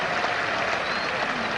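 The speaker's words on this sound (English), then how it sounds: "Nice round of applause for the 100 up." A short burst of steady clapping rises from spectators at the 1986 Sussex v Lancashire NatWest Trophy Final cricket match, a broad, continuous round of applause marking the 100 up, with commentary faintly underneath.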